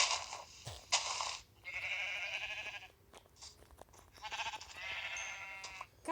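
Sheep in the Minecraft video game bleating in several wavering, nasal calls of varying length, separated by short gaps and a few soft crunching clicks, fairly close and clear with no talk.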